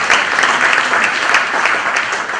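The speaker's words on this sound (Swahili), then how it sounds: "Hebu tuwapigie makofi kwanza." An audience at a church service in Thika, Kenya breaks into loud, steady applause, many hands clapping densely and close, holding evenly for a couple of seconds without speech.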